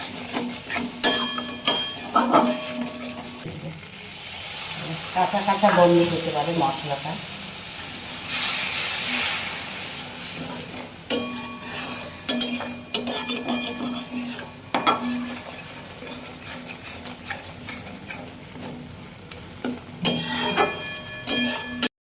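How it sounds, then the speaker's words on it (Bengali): Ground coriander spice paste for potol dolma filling fries in a pan with a splash of water, with spoon stirring and scraping against metal, soft sizzle and steam hiss, and someone talking over the cooking. "একটু জল দিয়ে কষি, ভাজা ভাজা করতে হবে।"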